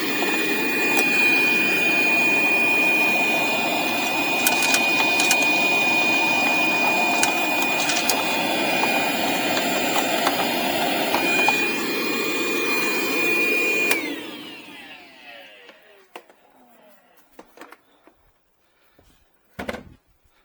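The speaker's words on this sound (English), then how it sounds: "we're going to vacuum inside this little compartment" A vacuum cleaner sucks debris out of the air filter compartment of a Ford Escape, running loud and steady for about fourteen seconds before cutting off and falling away to quiet, with a brief knock near the end.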